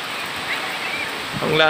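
Heavy typhoon rain from Typhoon Opong pours as a steady broadband hiss, close and continuous, with a voice beginning to speak at the end.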